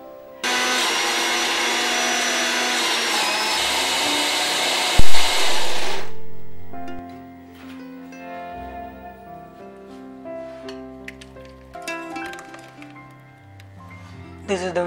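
A blender purées cooked onions for a Punjabi-style Indian curry gravy, a loud, steady motor whir that runs for about five and a half seconds and then cuts off, after which music carries on alone.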